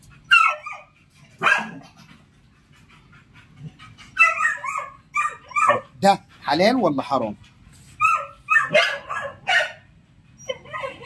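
Seven neglected, starving dogs bark in short, repeated bursts, fairly close, mixed with whimpers, while a person talks over them.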